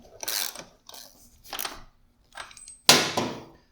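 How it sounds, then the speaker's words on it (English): Metal clicks and ratcheting bursts from a wrench tightening the main axle nut on a motorcycle during chain adjustment, several short separate clusters ending in a sharper louder clank, close and quiet, with no talking. "So last step is going to be to lock down our nut,"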